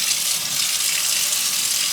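Running tap water pouring steadily as tie-dyed shorts are rinsed under it, a close continuous hiss and splash with no talk.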